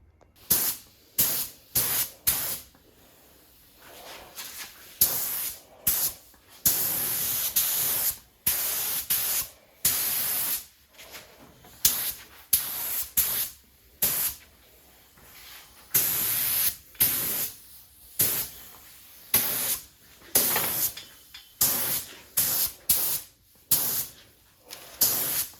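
A spray gun lays paint onto a Ford Falcon XY ute panel in repeated loud hissing bursts, each lasting a second or two, separated by short pauses, with no voices.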